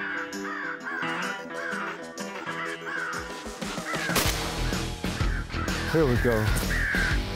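Crows caw repeatedly and loudly near a hunting blind in the Carolinas, harsh calls overlapping in a steady series, with someone speaking briefly over them.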